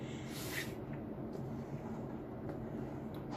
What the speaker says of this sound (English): I have my air conditioner going and it is quite close to where my table is.